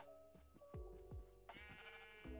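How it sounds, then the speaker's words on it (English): Sheep bleating in the video game Minecraft, several short, bright bleats in quick succession, clear and close with little else around them. "Let's get this gray sheep real quick."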